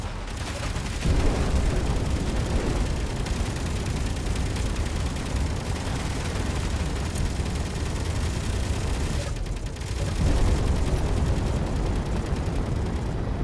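Ship weapons in the Space Engineers game fire in a dense, sustained barrage of overlapping shots and blasts, loud and continuous for the whole stretch with only a brief dip near the end.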